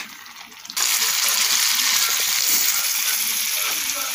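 Cauliflower fries in a pan: after a quieter start, a loud, dense sizzle suddenly rises and holds steady, with faint stirring underneath, close by and without talking.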